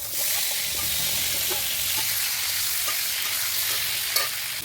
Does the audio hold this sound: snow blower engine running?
no